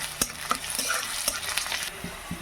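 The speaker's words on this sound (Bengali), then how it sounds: "রসুনটা ভাজা হয়ে যায়। অল্প একটু কুচনো পেঁয়াজও আমি দিয়ে দিলাম।" Garlic and a little chopped onion fry in oil for a mustard greens dish, giving a loud, close crackling sizzle broken by sharp spoon scrapes and clicks against the pan.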